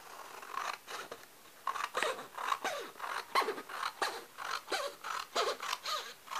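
Scissors snip through paper for a junk journal cover, cutting it to size with a quick, close series of crisp repeated cuts in a steady rhythm, alone without talk.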